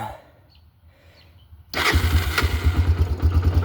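A cold Honda 300EX ATV that has been sitting unused cranks on its electric starter. After a quiet stretch, a loud, close, pulsing churn begins and keeps turning without settling into a clean idle.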